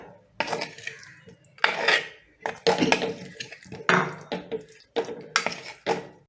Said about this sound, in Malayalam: ഇതൊന്ന് നന്നായിട്ട് നമുക്കിതൊന്ന് ഇളക്കാം